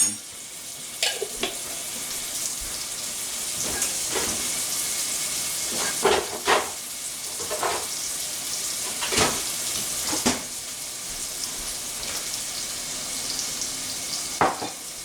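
Minced garlic frying in a pan for a tomatillo dish, a continuous close sizzle broken by several sharp scrapes and clacks of stirring, with no voices.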